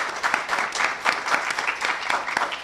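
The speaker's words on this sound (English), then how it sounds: "So a round of applause for Andrew for joining us as well." A small audience at a business community event claps for a speaker, a few distinct clappers in uneven rhythm, close and moderately loud.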